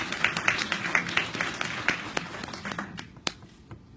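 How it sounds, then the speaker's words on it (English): Scattered clapping from a small audience at a tracheal stenosis conference, light, uneven and fairly close, thinning out after a few seconds. "We need to applaud Cheryl, too."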